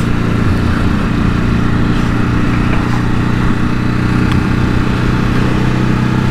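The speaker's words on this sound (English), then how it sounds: "I'm getting the odd pop on downshifts now, which is quite nice." Motorcycle engine running at steady speed on a ride along a scenic road, a loud continuous drone with wind rush, with faint brief pops from the exhaust on downshifts barely standing out.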